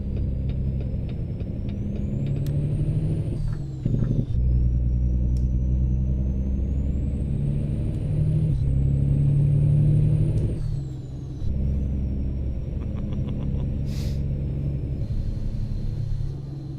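A Cat C15 diesel truck engine in American Truck Simulator rumbles steadily and loudly with the windows up, a deep drone that dips briefly between gear changes and carries a high whine above it, with no talking.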